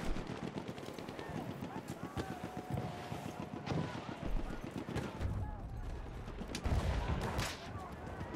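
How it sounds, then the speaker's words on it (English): Rapid machine-gun fire crackles through a foggy video game match in repeated bursts at moderate distance, mixed with wind and ambient game noise, while a voice talks over it. "Am I getting shot at already?"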